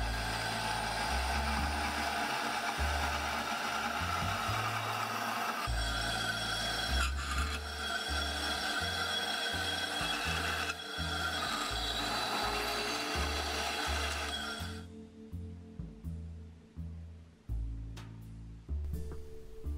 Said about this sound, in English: All that's left now is to clean all the spurs and polish it up a bit.